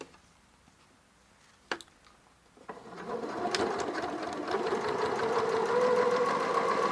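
A sewing machine fitted with an adjustable zipper foot starts after a couple of quiet seconds with a few clicks, then runs steadily with a rapid, whirring stitching rhythm that grows fuller and louder.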